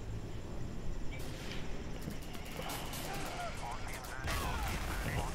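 Artillery fire in the Warzone Commander strategy game, heard as a dense rumbling barrage of booms and blasts running throughout, with a heavier burst near the end and a voice talking over it.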